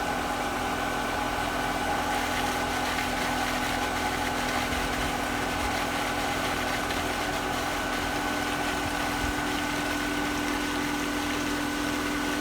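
A pool pump runs in a steady, even hum with a constant whir and faint water churn, close and unchanging throughout with no voices.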